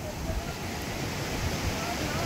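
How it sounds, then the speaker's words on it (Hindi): A river flowing close by in Himachal, near Manali, heard as a constant broadband rush of water that stays steady and fairly loud throughout, with no talking over it. "ये बिल्कुल पास में नदी"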